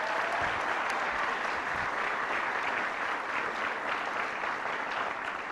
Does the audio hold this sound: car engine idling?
no